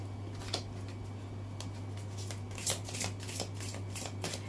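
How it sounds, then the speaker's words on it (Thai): Tarot cards are shuffled and gathered together in a series of soft, papery riffles and slaps at a moderate, uneven pace, with a steady low electrical hum running underneath. "ดี๋ยวอาจารย์ขอรวบไพ่ก่อนนะคะ"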